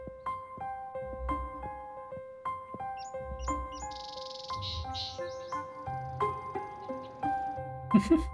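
Game birds chirp in short, bright bursts within Gabriel Knight 2: The Beast Within, set against a layered musical score with sustained tones and soft low thumps.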